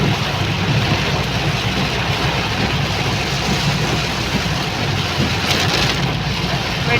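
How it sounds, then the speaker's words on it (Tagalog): Heavy rain pounds steadily on a moving car, a dense continuous wash of patter over the low hum of the engine and road, with no talk. "It's raining so hard."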